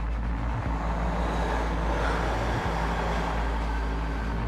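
A car rolls off from a stop as the brake is released, its engine a steady low rumble with broadband road noise running throughout at an even, fairly loud level.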